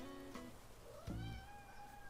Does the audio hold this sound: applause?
no